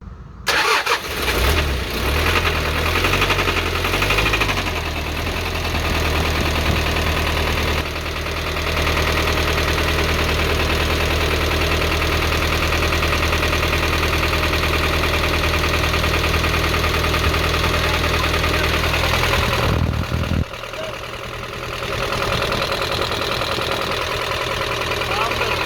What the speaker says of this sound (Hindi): तो इंजन को स्टार्ट करवाएंगे, स्टार्ट करवा के इसकी आवाज़ चेक करेंगे